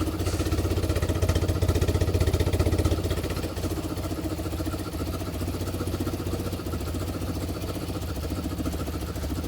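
A BMW Airhead motorcycle engine idles just below 1,000 rpm with the choke partly on, a steady low throbbing rumble close by, slightly louder at first and then settling into an even, continuous idle.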